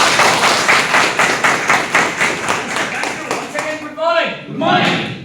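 An audience at a talk claps hands together in a steady, fast rhythm, loud and close, for several seconds. The clapping stops and a voice begins speaking.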